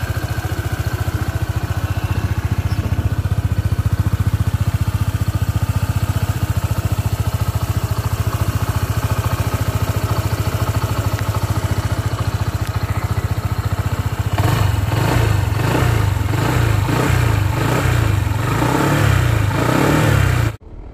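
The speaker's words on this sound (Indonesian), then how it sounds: "Oke, ini suara mesinnya." A Honda PCX 160 scooter engine idles steadily up close for about fourteen seconds, then gets a series of quick, rhythmic throttle blips that rev it up and down before cutting off.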